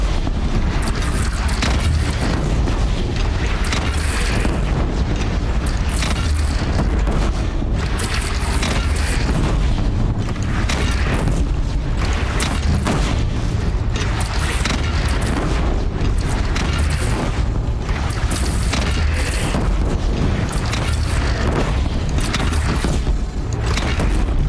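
Cannon fire and explosions rumble through a Horizon Zero Dawn battle, with dense, continuous booms and bursts over a constant loud low roar with no pauses.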